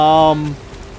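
Rain falls in the video game Disney Dreamlight Valley, a soft, steady hiss that remains after a brief, bright tonal chime fades out at the start.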